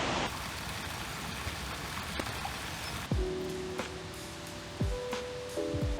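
Steady light rain hisses softly on a street in Madrid, quiet and even, with a few brief tonal sounds breaking through midway.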